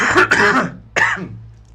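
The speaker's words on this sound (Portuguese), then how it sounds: "Vou ter que tossir." Two harsh throat-clearing coughs, close and fairly loud, the first longer and rougher, the second short and sharp, with no talking.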